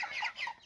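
Broiler chickens in a Ramadan batch give a brief flurry of soft, close clucks, faint and quick.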